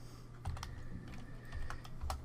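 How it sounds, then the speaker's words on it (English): Computer keyboard typing during accounting data entry, a quick run of soft key clicks with a few louder taps, close by and without talk. "this account right here is really, really easy to make a mistake typing"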